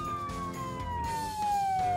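A police siren in a children's cartoon about trucks, its single steady tone gliding slowly downward, loud and close over a short stretch with no talk.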